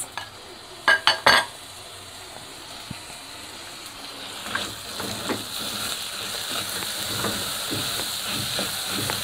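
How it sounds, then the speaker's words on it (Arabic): Rice is stirred with half an onion in a hot pan, a steady sizzle and scraping that follows a few sharp clinks of a utensil against the pan near the start. "هنزل بيها على الرز بتاعي وهقلبها كويس"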